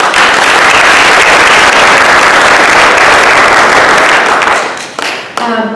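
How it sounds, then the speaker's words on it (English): Audience applause at an event on advocating for immigrant women in Monterey County: loud, dense clapping from many hands that holds steady, then thins out and fades near the end. "Can we give them a round of applause?"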